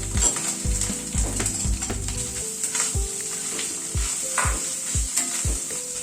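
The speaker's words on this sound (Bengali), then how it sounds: "কড়াইশুঁটি পেস্টটা দিয়ে একটু ভালো করে তেলের উপরে নাড়াচাড়া করে নেব।" Green pea paste being sizzled and stirred in hot oil over ginger paste in a kadai for a dal: continuous frying hiss with rhythmic spoon scrapes and knocks against the pan, no speech.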